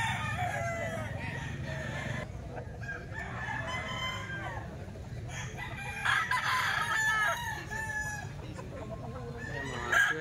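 Roosters crow and hens cluck at a grotto, several birds calling in overlapping bursts over a low steady background rumble, moderately close.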